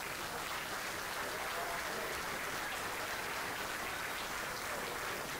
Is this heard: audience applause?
yes